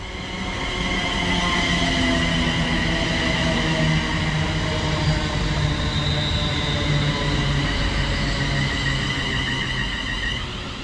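London Northwestern Railway service to Northampton, unit 35242 in old livery, arriving at Birmingham International on the West Coast Main Line, a loud continuous rumble of wheels and motors with faint squealing tones, steady throughout.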